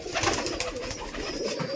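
Ringed fancy pigeons in a loft coo together close at hand, a dense continuous murmur of overlapping calls with no talk.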